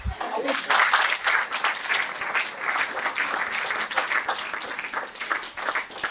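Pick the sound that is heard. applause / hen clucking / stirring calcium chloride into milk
applause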